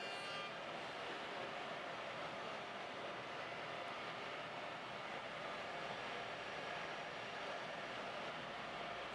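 A computerized woodworking machine runs in a custom cabinet shop, cutting rails for cabinet doors with a beaded inset, giving off a steady, dense broadband whir that holds level throughout with no talking.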